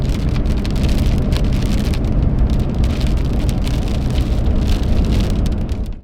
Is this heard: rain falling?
yes